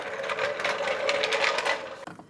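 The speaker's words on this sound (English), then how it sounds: "Now I can lower the floor jack. It's going to lower the motor back down in position." A floor jack lowers the engine of a 2002-2009 Chevrolet Trailblazer back into position during an engine mount replacement. It makes a steady, close mechanical whirring and rattling for about two seconds, then stops with a short clunk.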